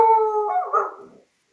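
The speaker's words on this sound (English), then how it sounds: "thankfully you're not hearing barking on my end, only on Christian's end at the moment." A dog in a dog-friendly office lets out a single howl that wavers and breaks into a rougher bark-like cry, loud and close, fading out after about a second with no talk over it.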